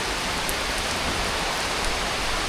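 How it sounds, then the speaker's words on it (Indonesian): Heavy rain pours down on a garden pavilion, a dense, loud, steady hiss of downpour with no breaks, filling the whole moment. "Ternyata hujan, jadi kita terperangkap di pendopo ini."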